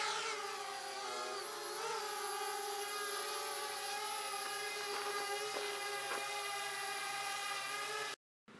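A drone takes off and flies over a house for sale near Bayeux, giving a steady, high, whining buzz of spinning rotors that holds close and constant throughout with no voices, then cuts off abruptly near the end.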